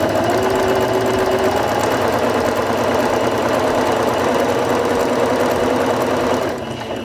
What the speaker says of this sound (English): place your fabric underneath the presser foot, lower the presser foot lifter, and step on the foot control to begin sewing